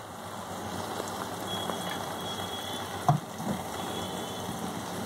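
A sarva pindi rice flatbread fries in oil on a stove, giving a soft, steady sizzle with faint crackles and one small clunk midway.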